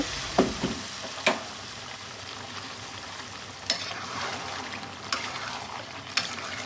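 Meat being stir-fried in a kadai with fried onion and garlic: a low, constant sizzle broken by sharp scrapes of a spatula against the pan at irregular intervals, quiet and with no voices.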